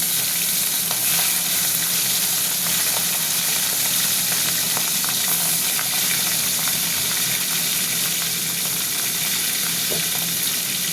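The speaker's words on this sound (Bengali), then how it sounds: "মাছের মাথা, হাফ পিস মাছের মাথা ছিল, ওইটা আগে ভেজে নিচ্ছি।" Half a fish head sizzles steadily in hot oil in a home kitchen, a continuous close, bright crackling hiss with small pops running the whole time and no voices.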